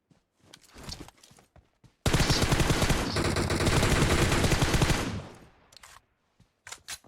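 Automatic gunfire in PUBG Mobile aimed at a vehicle's tyres: a loud, dense burst of rapid shots lasting about three seconds, framed by quieter scattered shots and clatter before and after.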